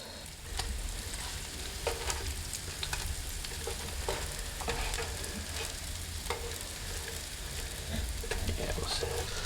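Eggplant slices frying in a pan in an RV kitchen, a steady close sizzle with occasional soft scrapes and crackles, no talking.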